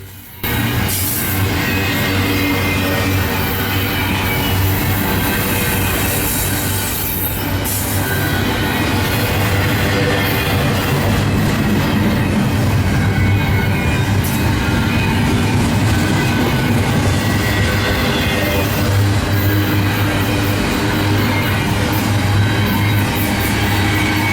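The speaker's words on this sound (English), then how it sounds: "This is a intermodal that goes from Chicago to New Jersey." An intermodal freight train bound from Chicago to New Jersey rolls past at close range in northeast Ohio, a loud steady rumble of wheels and cars with faint clickety-clack and occasional squeal, continuous throughout with no talk.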